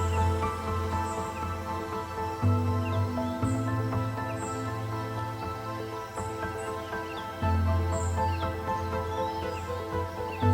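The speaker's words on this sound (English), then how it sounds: "the sounds of the birds is actually mind-blowing" Birds chirping around an outdoor patio in South Africa's Garden Route, faint scattered high tweets over a steady low hum and broad background noise.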